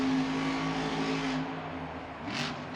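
A monster truck engine revs and roars in a large stadium at a Monster Jam event, a loud sustained drone that shifts pitch and then fades as a crowd murmurs.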